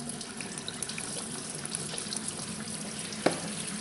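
Coolant drains from a Cadillac Eldorado Northstar engine into a pail in a steady, faint splashing trickle, with one brief knock near the end.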